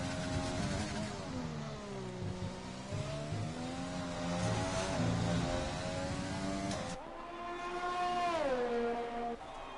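Formula 1 cars in a video game race at the Canadian Grand Prix, engines whining loudly and continuously, pitch rising and falling through gear shifts, with a sharp drop near the end as one car passes.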